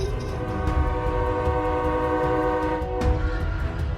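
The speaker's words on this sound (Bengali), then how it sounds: "হর্ন দিল ট্রেন।" A train horn blares as a long, loud, steady blast, with rail rumble underneath and a brief click near the end, set as a station scene in a horror audio drama.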